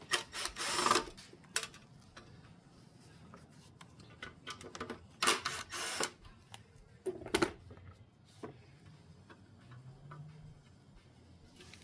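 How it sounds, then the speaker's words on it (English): Small screws being removed from the ECU cover of a 1993 Nissan 300ZX Twin Turbo, heard as faint, scattered clicks and ticks of a screwdriver and handled metal parts, with a few louder rustling bursts in a quiet room. "Take out these little screws here."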